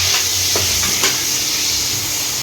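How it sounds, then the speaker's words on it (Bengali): A curry cooks in a pan with a bright, steady sizzle and a few soft scraping stirs, close and continuous for a couple of seconds with no voices. "মাছ ভাজা শেষ, এখন আমি তরকারি বসাবো।"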